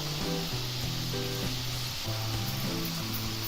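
Khaja roasting in a pan over a low gas flame gives a steady, soft sizzle with faint hiss throughout, while a low tonal hum runs beneath and no one speaks.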